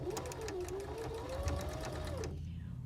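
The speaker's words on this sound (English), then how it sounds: "I'm going to go ahead and start my machine, and I'm going to stop just as soon as I start and take a few stitches." A Baby Lock Zeal sewing machine runs briefly for a few stitches, a close, fast mechanical whir with rhythmic needle clatter that stops near the end.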